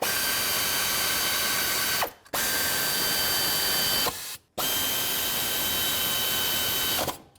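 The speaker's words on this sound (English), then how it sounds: "We'll snug them up and then we'll torque them." A ratchet drive whirs steadily, close and loud, while snugging serpentine belt tensioner bolts on a 2004-2008 Ford F-150 with the 5.4L engine, in three long runs split by two brief pauses.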